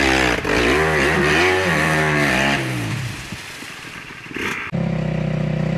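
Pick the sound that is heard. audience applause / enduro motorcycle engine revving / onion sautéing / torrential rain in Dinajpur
enduro motorcycle engine revving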